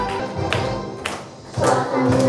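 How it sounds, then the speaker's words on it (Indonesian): Children clapping their hands in a fourth-grade classroom, with a few loud, sharp claps spaced across a couple of seconds, growing denser toward the end. "Sambil tepuk tangan boleh."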